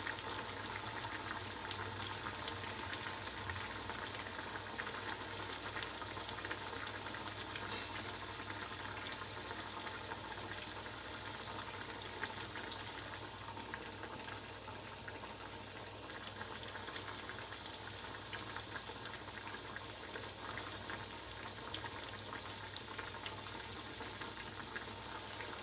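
Sabudana vadas shallow-frying in oil over a medium gas flame, giving a faint, even bubbling sizzle that holds steady throughout with no talking.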